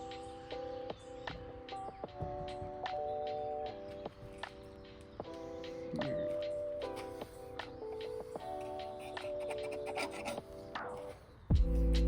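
Steady rasping scrub across the cast surface of a table saw top during preventive maintenance, a continuous rubbing with short strokes and faint ticks, close and fairly loud, with a brief thump at the end.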